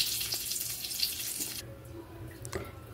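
Boiled rice and lentils poured into hot spiced oil for khichdi, a loud broad sizzle that drops off suddenly partway through, leaving a quieter bubbling hiss with a few soft clinks.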